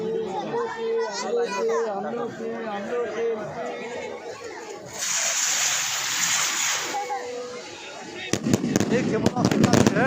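Fireworks rockets launch and burst at a crowded Ganga puja display at Digha Mohona, with sharp crackling bangs near the end over a steady hubbub of chattering adults and playing children.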